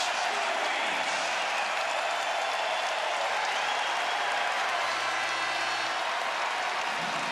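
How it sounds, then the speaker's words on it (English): Basketball arena crowd at a college game cheering and applauding as a player checks in, a steady, dense roar of many spectators filling the whole stretch at fairly constant loudness. "The crowd likes this."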